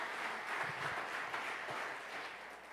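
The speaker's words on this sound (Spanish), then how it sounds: "Denle ese buen aplauso al Rey de Gloria allí." A church congregation applauds during a Sunday sermon, a soft, even spread of many hands clapping at some distance, continuous and fairly faint.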